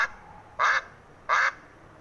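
A duck gives two short, bright quacks, evenly spaced about half a second apart, standing out clearly against a quiet background.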